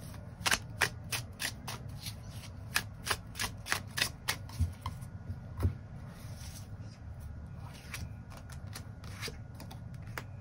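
Tarot cards shuffled by hand in a quiet room, a fast run of crisp riffling flicks and soft slaps that comes in bursts, then settles into gentler shuffling.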